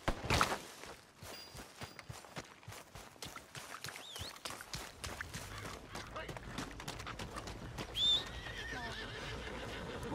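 A horse whinnies and its hooves clip-clop in a steady walking rhythm in the video game Red Dead Redemption 2, with scattered background noises and some speech around it.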